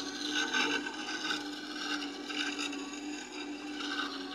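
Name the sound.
sharpening round chisel on sharpening stone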